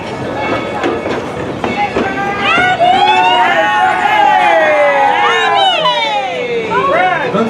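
Narrow gauge steam train at a theme park pulling into the depot, with rolling rail rumble and long squealing wheel screeches rising and bending over a busy crowd murmur.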